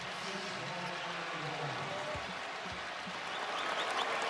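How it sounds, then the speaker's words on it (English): A college basketball crowd at the Big East final gives a warm round of applause as a player checks out of the game, steady clapping rising slightly toward the end, with faint arena murmur underneath. "Gets a nice hand from the crowd."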